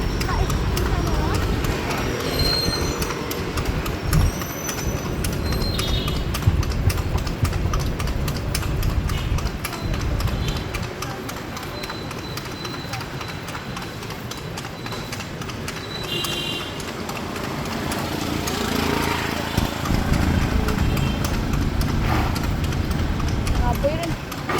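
Horse hooves clip-clop during a ride in a kalesa, a horse-drawn carriage on a street. The rhythmic clopping runs under road noise and an engine hum, and people talk throughout.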